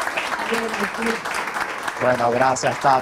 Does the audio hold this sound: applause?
yes